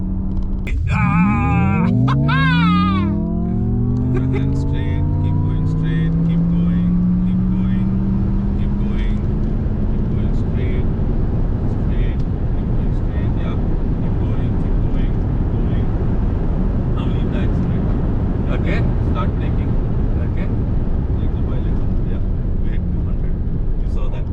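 An MG Cyberster sports car in Super Sport drive mode accelerates hard from a standstill toward 200, its engine note sweeping rapidly upward through several gear changes, then settling into loud sustained road and wind roar.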